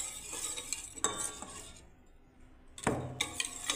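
A spoon stirs a sattu flour mixture for a drink, making quick scraping and clinking bursts that fade to near silence in the middle and then come back, close and fairly quiet.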